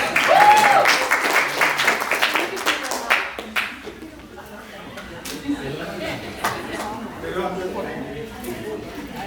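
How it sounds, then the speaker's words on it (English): A round of applause breaks out at a 59th birthday celebration, dense clapping for the first few seconds that thins out and fades as a speaker's voice carries on over scattered claps. "Round of applause, please."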